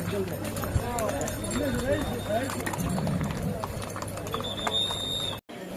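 Pilgrim horses walk along the Amarnath Yatra route, their hooves clip-clopping steadily and fairly close, with a whinny and busy crowd voices in the background.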